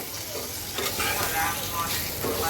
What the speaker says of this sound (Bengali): এইবার আমি মশলাটাকে সুন্দর করে কয়েক মিনিট ভাজবো